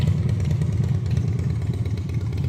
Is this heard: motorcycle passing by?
yes